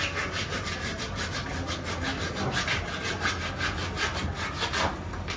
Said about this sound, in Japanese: マグロの頭を今落とす音です。